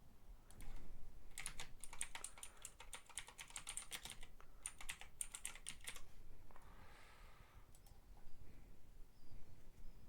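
A query typed on a computer keyboard comes through as bursts of quick, close key clicks with short pauses between them. The room is quiet, with faint ambient noise, and no one talks.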